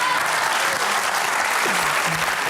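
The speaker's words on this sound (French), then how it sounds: "on peut l'applaudir" Audience at a comedy show breaking into steady, dense applause that fills the room evenly from start to finish, with a few crowd voices faintly mixed in.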